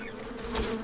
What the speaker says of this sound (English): Do I hear bees?